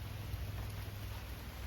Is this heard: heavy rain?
yes